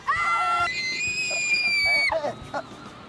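A woman lets out long, piercing, high-pitched screams, loud and close, held for over a second each before breaking off into shorter shouts and muffled sounds.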